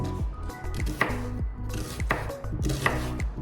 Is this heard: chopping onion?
yes